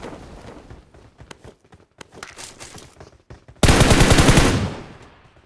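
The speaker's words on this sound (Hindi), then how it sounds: "मैच खेलते समय मैं जैसे ही पीछे मुड़कर फायर करने लग जाता हूँ" Gunfire from an M4 rifle in the mobile battle royale game PUBG Mobile: scattered single shots and footsteps, then a sudden loud sustained automatic burst lasting about a second before fading.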